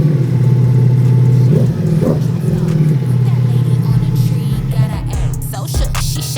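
A V4 motorcycle engine revs loudly and close, a continuous throaty roar with rising and falling throttle blips, with voices in the background.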